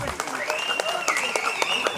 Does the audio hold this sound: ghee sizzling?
no